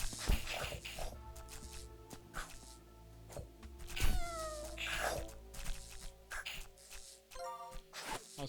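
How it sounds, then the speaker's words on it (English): A cat meows a few times in a spooky-themed Feisty Fauna beta game, its rising and falling cries sitting over low background game music and soft shuffling and tinkling sounds. "Also, I'm hearing the meow."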